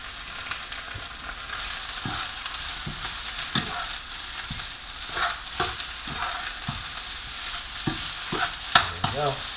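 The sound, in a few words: stirring spinach cooking down in wedding soup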